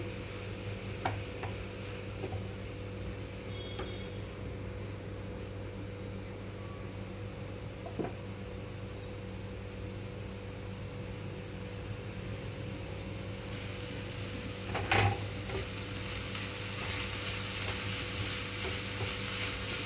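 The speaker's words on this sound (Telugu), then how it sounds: "మధ్య మధ్యలో కదిలిస్తూ ఉంటున్నాను" Spinach and moong dal frying in a pan while being stirred now and then, giving a steady low sizzle with faint scrapes and a brief clatter near the end.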